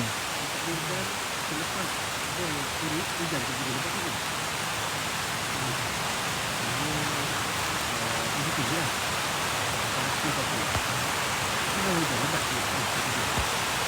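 Heavy rain pouring down in the forest on Bukit Bunian, a dense unbroken hiss that stays steady throughout, with faint voices talking underneath at times.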